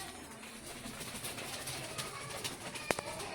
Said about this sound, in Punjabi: ਲਾਲ ਚੀਨਾ ਕਬੂਤਰ ਆ